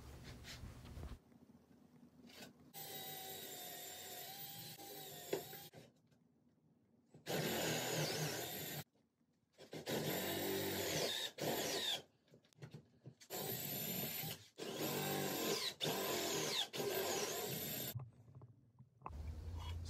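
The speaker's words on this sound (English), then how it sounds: "You'll notice that I use a portable drill guide for drilling" Bursts of a portable power drill in a drill guide boring into wood for a Windsor chair, several separate runs of whirring and grinding broken by short pauses and quiet stretches.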